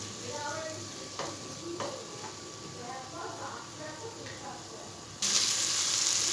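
Spiced masala for stuffed pointed gourd is dry-fried and stirred in a pan with little oil, giving a steady soft sizzle broken by a few scraping strokes, ending in a louder hiss of sizzling.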